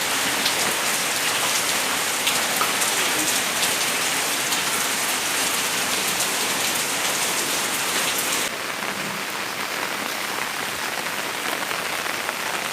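Steady, dense rain pours down at a house in Sattahip, Thailand, hissing and pattering continuously on hard surfaces and a car, no voices, a constant wash of sound throughout.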